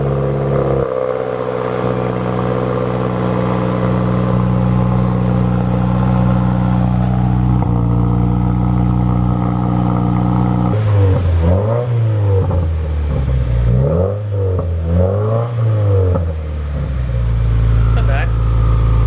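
A Subaru WRX fitted with a new Tomei exhaust cold-starts and settles into a loud, steady idle, then rises and falls through several rhythmic revs, with voices talking over the engine.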